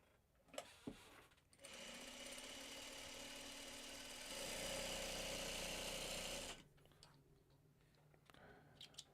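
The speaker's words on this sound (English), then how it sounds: "turn it around, sew down the other side." A sewing machine stitches fabric in one steady close run of about five seconds, its rapid mechanical whir picking up speed partway through before stopping.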